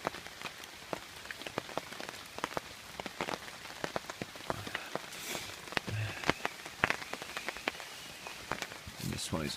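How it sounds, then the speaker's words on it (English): Scattered drops of rainwater run down a tree trunk and patter and drip irregularly onto a surface, with soft rain noise throughout. "the water drips all the way down here from the tree trunk"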